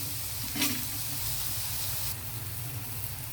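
Onions with turmeric sauté in a pan with a steady frying hiss, broken by a brief stirring scrape near the start.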